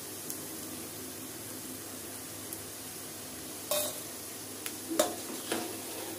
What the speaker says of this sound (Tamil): இது நல்லா முருகல் ஆகிற வரைக்கும் ஆயிலே இருக்கட்டும்